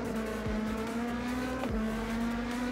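Ferrari and Porsche race cars in a racing video game hold a steady, high engine whine. Quick passing swoops and a tire squeal cut across it at moderate volume, with no talking.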